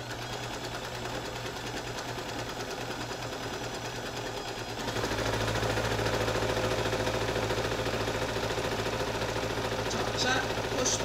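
A sewing machine runs steadily, stitching the plain hem of a fitted sheet; the motor hum grows louder and fuller about halfway through and holds to the end, with someone speaking at moments over it.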